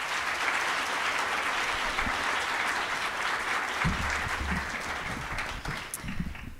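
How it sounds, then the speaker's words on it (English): Steady applause from a conference audience at an economics close-out event, a dense even wash of clapping that holds for several seconds before thinning slightly near the end, with a few low thumps underneath. "Please give them a warm round of applause."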